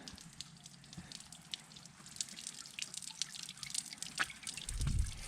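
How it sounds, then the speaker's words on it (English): Water trickles and drips steadily from a boat's outboard motor as it is flushed out, a soft, quiet patter that swells slightly near the end. "Flushing the motor out now."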